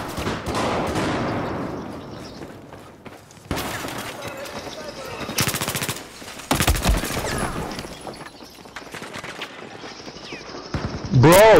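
Video-game gunfire from Battlefield 4 comes in bursts of rapid shots between pauses, with a loud blast near the end, while a player talks excitedly over the action.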